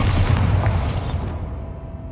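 A Bombarda spell blasts in Hogwarts Legacy, a loud booming explosion with a heavy low rumble that decays over about two seconds.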